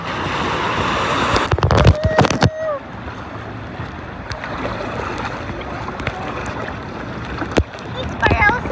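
A paraw sailboat with no engine glides over the water off Boracay, with a soft wash of waves and wind, occasional knocks and splashes against the hull, and faint voices nearby.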